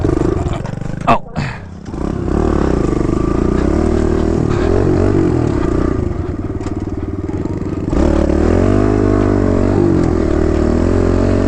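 A dirt bike revving hard in second gear, a loud close engine roar that holds steady for several seconds then climbs again, with brief clatter at the start and voices talking over it.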